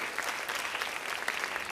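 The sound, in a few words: audience applause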